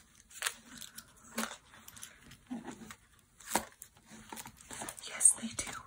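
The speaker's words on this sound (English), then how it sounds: "I wonder if my scissors would fit in there." A pair of scissors is slipped into a mesh pencil bag, giving close, quiet rustling, crinkling and light clicks in short bursts, with soft whispering speech alongside.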